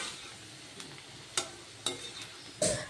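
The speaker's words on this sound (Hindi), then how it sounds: "अभी इसको फ्राई करके साइड में रख देंगे।" Potatoes fry in oil in a pan with a soft, steady sizzle, broken by a few sharp clicks as they are stirred close by.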